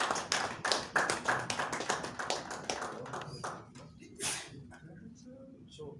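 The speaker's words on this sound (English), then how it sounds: "Please, let's clap for the presentation." Audience applause after a presentation at a Lagos event on partnerships with civil society groups: a burst of many hands clapping, loud at first, then thinning and tapering off into scattered claps.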